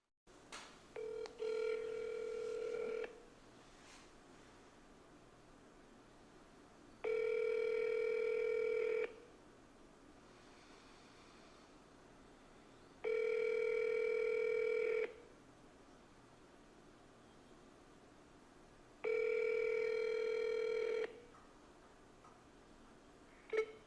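Four evenly spaced ring-back tones of an outgoing phone call, each lasting about two seconds with pauses of silence between, heard clearly over a quiet line.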